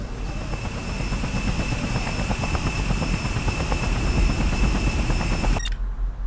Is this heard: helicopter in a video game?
yes